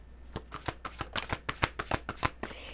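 Tarot cards shuffled by hand during a card reading, a quick run of about a dozen crisp riffling slaps in uneven rhythm, close and clear with no voices.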